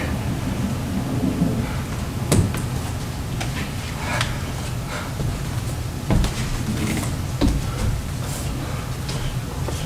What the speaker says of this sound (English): what a rain.